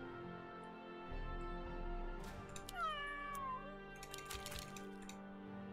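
A cat meows a couple of times in the tower defense game Legion TD 2, short rising and falling calls in the middle of a steady game soundscape with clicking and soft effects around them.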